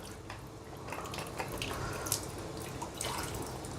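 Water drains and trickles from a Kangen water machine during deep cleaning, a soft continuous splashing with scattered drips, faint and close by.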